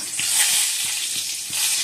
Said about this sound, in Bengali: দুটো পটল ভেজে নিচ্ছি